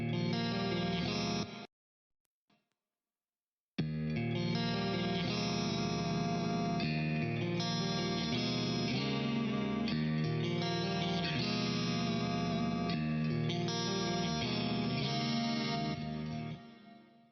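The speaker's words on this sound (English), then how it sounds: "Clean guitar. Sounds like this." A clean electric guitar, a Kiesel played through a HyperRig, plays a continuous chordal passage with chorus-like shimmer, loud and sustained, then drops out briefly near the start before resuming and fading at the end.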